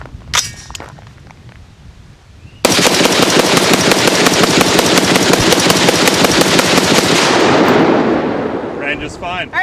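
A Stag 10S .308 rifle fires Century Arms Hot Shot ammunition in a rapid, sustained string of loud, closely spaced shots lasting several seconds, then fading out.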